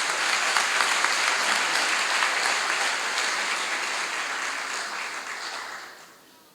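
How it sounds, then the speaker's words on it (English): Sustained audience applause at an African American graduation ceremony for Peralta Colleges, a dense even wash of many hands clapping throughout, holding steady before fading out near the end. "Let's give her another round of applause."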